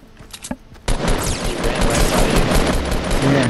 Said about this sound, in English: Yes, I'm shooting him now.